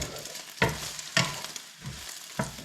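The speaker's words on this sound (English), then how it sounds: "So we're just going to stir this around, make sure it's cooking." Army bag eggs frying in a pan give a soft, close sizzle, broken by four sharp scraping stirs spaced roughly half a second apart, with no talking.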